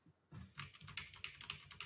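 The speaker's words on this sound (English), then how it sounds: "you were just pitter-pattering really fast on your keyboard." Rapid typing on a computer keyboard, a dense run of quick clicking keystrokes heard close and alone, with no voices.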